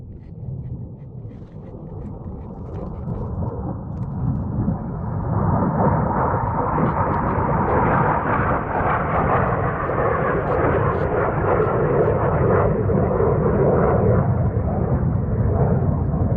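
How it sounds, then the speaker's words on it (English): A jet roars overhead, its broad rumble swelling steadily louder over several seconds and holding at a loud, sustained peak. "here comes a jet."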